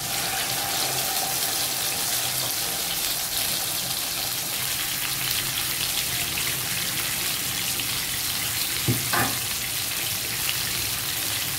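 Marinated chicken cooking in half a cup of oil in a non-stick pan for tawa chicken, a steady, dense hiss of frying that runs unbroken, with a couple of faint knocks late on.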